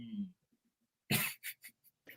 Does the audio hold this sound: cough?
yes